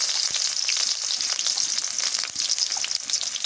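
Onions frying in a pan for an eggplant dish, giving a steady, close, bright sizzle that runs unbroken throughout with faint crackles and stirring scrapes, no voices.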